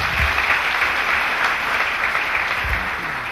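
A church congregation claps together in a sustained, fairly loud burst of applause that holds steady from start to finish, with no talking over it.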